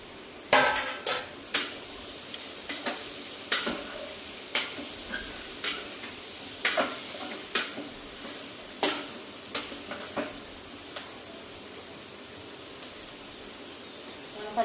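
Pumpkin pieces cooking in a kadai, with a spoon repeatedly scraping and knocking against the metal pan in a steady, irregular rhythm over a soft continuous sizzle, close and clear.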